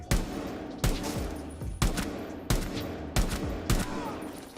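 Rainbow Six Siege gunfire against terrorists in a practice round: six loud, sharp shots spaced roughly a second apart, each with a short ringing tail, close and clear.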